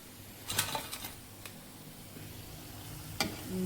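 Pakoras (bhaji) frying in hot oil in a pan, a soft steady sizzle punctuated by a few sharp clicks and scrapes of stirring, close and fairly quiet with no talk.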